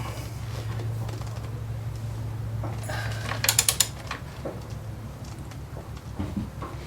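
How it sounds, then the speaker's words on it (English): A torque wrench tightening the axle bolt to 110 foot-pounds on a Yamaha Raider motorcycle, heard as a close, brief run of sharp ratcheting clicks over a steady low mechanical hum. "don't forget to tighten your axle bolt here, and that's going to be 110 foot-pounds."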